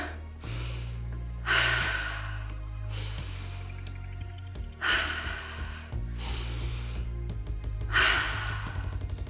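Heavy breaths during cardio exercise, several long loud exhales and gasps in a slow rhythm, close up over a steady low background.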